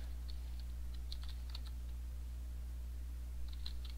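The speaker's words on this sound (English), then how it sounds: "Typing any key in the console fixes it." Keys tapped on a computer keyboard in short irregular bursts of a few clicks, fairly faint and close over a steady low hum, with no one speaking.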